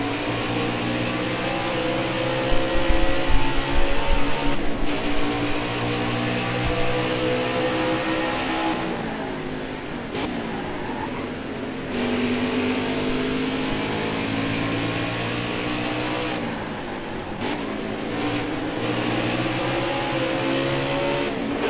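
Race cars in a PS4 racing game, engines droning loud and continuous with shifting revs as the pack runs mid-race, no talking.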